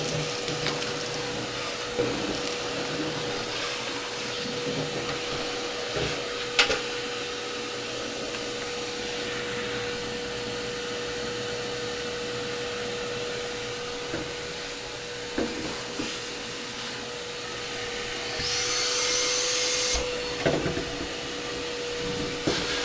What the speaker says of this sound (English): I'm just vacuuming up, guys. Vacuuming up everything out of the cab.